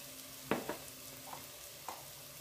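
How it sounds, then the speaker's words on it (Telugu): Tomatoes frying in a pan with salt and turmeric for chicken biryani, giving a soft steady sizzle with a few light stirring scrapes spaced apart, fairly quiet and alone. "టమాటోస్ బాగా మగ్గేంత వరకు వేయించుకుందామండి."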